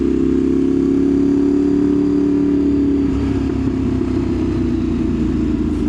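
A 2015 Ducati 848 EVO motorcycle engine drones loud and steady while riding, its pitch shifting partway through as it downshifts, with constant wind and road noise.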